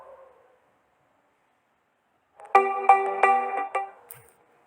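A phone ringtone plays in short bursts of bright, steady electronic tones that step in volume over about a second and a half, after a brief murmur and then silence.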